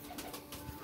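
A pigeon giving a soft, brief coo close by, faint and low.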